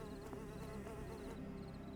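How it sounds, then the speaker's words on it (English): A buzzing bee in the fantasy game Pantheon: Rise of the Fallen drones faintly and continuously inside a dense wash of game ambience and music, with no talking during the stretch. "I hear a buzzy bee."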